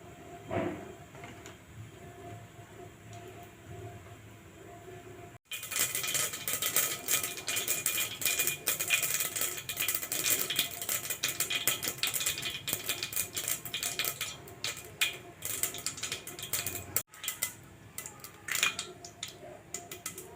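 Mustard seeds, cumin and asafoetida crackle and spit in hot oil for a potato and onion dish, a dense, steady run of sharp pops and sizzle that starts suddenly and stays loud and close throughout, with no talking.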